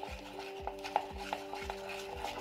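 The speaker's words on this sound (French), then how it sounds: "Donc je viens mélanger déjà tout ça pour obtenir une mousse" Slime mixture made with Cleocol glue is whipped into a foam with steady, rhythmic stirring strokes, each pass giving a wet scrape and light clink against the container, close and continuous.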